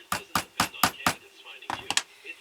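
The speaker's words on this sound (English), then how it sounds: "take our punch here and put a hole, punch a hole so we don't lose our center" Five sharp metallic hammer strikes on a center punch marking a hole in a wooden ventriloquist dummy part, in a steady rhythm, close by, followed by a few lighter taps and knocks.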